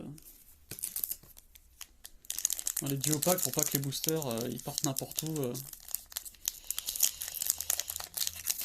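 Crinkling and tearing of trading card duo-pack packaging, with sticky tape ripping off in short bursts while a person talks over the sounds.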